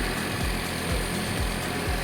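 An electric coolant pump on a Toyota Camry hybrid hums steadily with its impeller spinning. The sound is a faint, even drone close by, with no voices over it.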